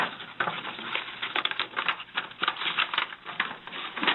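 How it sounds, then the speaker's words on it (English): Paper evidence bags rustle and crinkle in quick, irregular bursts throughout a police interrogation, the crisp handling noise close and fairly steady with no talking over it. "you hear the paper bags"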